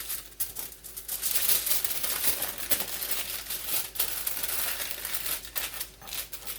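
Aluminum foil crinkles and crumples continuously while being folded around a slice of Chinese five-spice pork belly before air frying, a close, busy rustle with brief sharper crackles throughout.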